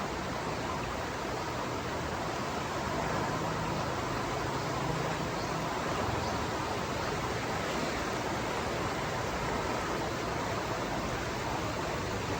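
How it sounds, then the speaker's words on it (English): A river in Nairobi, Kenya, running high after heavy rains, gives a steady, dense rushing wash of flowing water that holds an even level throughout, with no voices over it. "That is the sound of the river."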